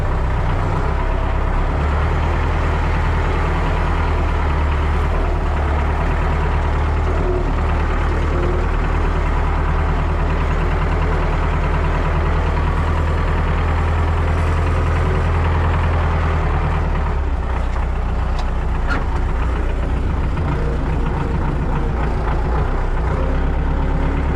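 Tractor engine idles and rolls steadily as it pulls up to a restored KPS-3.5 cultivator, a continuous low diesel rumble with a broad mechanical drone, loud and close throughout with no voices.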